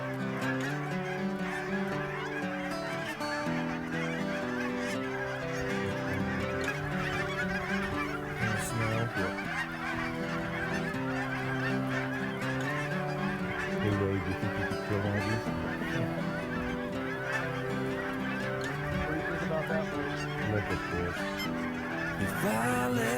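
Large flocks of Canada geese coming off the roost honk constantly during a Washington goose hunt, with many overlapping calls near and far forming a loud, continuous chorus.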